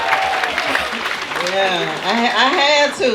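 Audience applause at a comedy show, a broad wash of clapping that swells and holds for a few seconds while someone talks over it.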